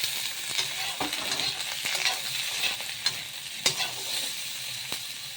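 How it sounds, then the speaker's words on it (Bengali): Paneer drops into hot oil where potatoes are already frying, setting off a continuous crackling sizzle with scattered pops and several stirring scrapes and knocks against the pan. "এখন আমি পনিরটা দিয়ে দেব।"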